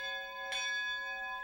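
A bell is struck once and rings on with a long, steady, shimmering tone that stays fairly quiet and fades only slowly.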